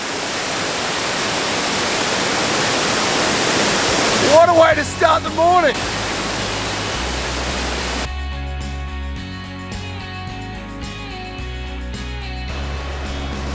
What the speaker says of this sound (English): this walk takes you right up to the edge of the waterfall